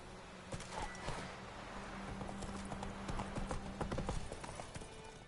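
Roach, a horse in The Witcher 3: Wild Hunt, trotting with hooves clip-clopping in a steady rhythm, fairly quiet and close, with a low steady hum beneath and no speech.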